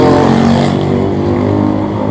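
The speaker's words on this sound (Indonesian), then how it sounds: "suara knalpot motor biasa, polusi suara" An ordinary motorcycle's exhaust droning loudly and close as it passes, a steady throaty engine tone lasting throughout.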